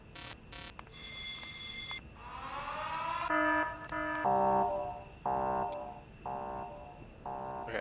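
Alarm tones from the Factorio video game in a SeaBlock playthrough. A few short electronic beeps are followed by a sustained tone with a rising sweep, then a run of pulsing buzzes. The sound is moderately loud and clear, with no talk.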